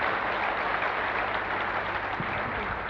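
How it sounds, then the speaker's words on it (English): Steady applause from a crowd, dense and sustained clapping that fills the whole stretch without pause. "give them a big round of applause"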